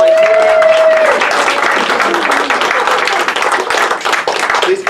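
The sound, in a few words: audience applause for a volunteer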